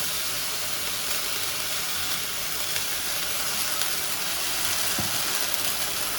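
A steady sizzling hiss from chillies roasting in a hot pan, continuous and even throughout, with no voices.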